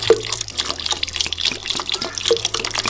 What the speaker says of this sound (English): next we want to add 1 litre of cold water to the blender.